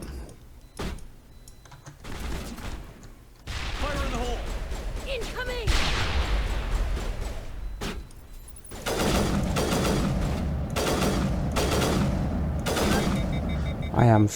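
Rapid gunfire and a blast from a squad firefight in the Mass Effect Legendary Edition video game on Insanity difficulty, dense bursts layered with music and effects that swell louder in the second half, with a voice speaking partway through.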